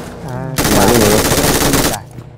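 A loud, dense burst of rapid automatic fire from a shooter video game lasts about a second and a half, with voices talking before it and underneath it.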